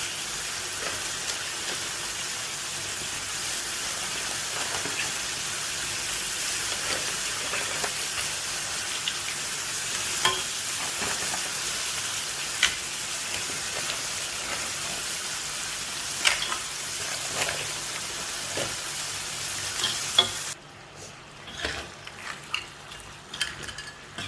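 Mud crabs, four kilos of them, sizzle and fry steadily in a spicy masala while being stirred, with scattered spoon scrapes; near the end the frying drops away quieter.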